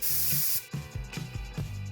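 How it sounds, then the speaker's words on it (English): Clear acrylic spray hisses loudly from an aerosol can onto a glitter-coated tail of a craft, one steady burst lasting about half a second before stopping, followed by a few soft rhythmic thumps and rustles. "Secure it in place using clear spray acrylic polish."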